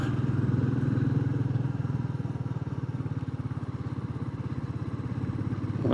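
Royal Enfield Meteor 350 motorcycle riding off-road over deep gravel, a loud, steady thumping single-cylinder engine beat with rumble and wind throughout, close and continuous.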